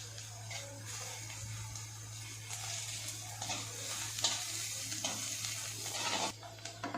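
Ingredients sautéing in a pan over a medium-high flame: a continuous close sizzle with repeated stirring scrapes and spatula strokes, alongside a low steady hum.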